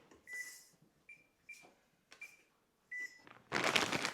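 A kitchen oven's control panel gives five separate short electronic beeps while being set to preheat to 350 degrees Fahrenheit, ending in a louder burst of broadband noise.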